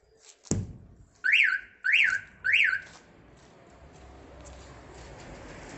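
A Starline E96v2 car alarm fitted to a Toyota Proace van gives its pre-warn: three short rising-and-falling chirps in quick succession after a thump on the vehicle, then quiet hum.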